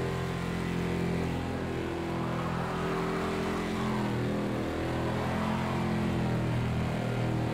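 A heavy old Mercedes-Benz 300 SEL in fifth gear on the historic Spa-Francorchamps layout in Project Cars 2 gives a loud, continuous engine drone thick with road and wind roar, holding steady from start to end without any voices.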